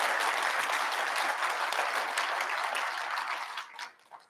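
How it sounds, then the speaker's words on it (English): A room full of people applauds at a mayoral town hall, with dense, steady clapping that tapers off and dies out over the last second. "Let's give them a round of applause."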